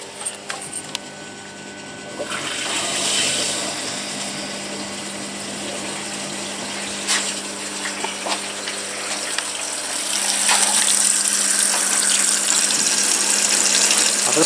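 A washing machine on a rinse cycle, set to half load, fills with water, giving a steady rushing, gushing flow that swells louder toward the end, with occasional clicks and clunks from the machine.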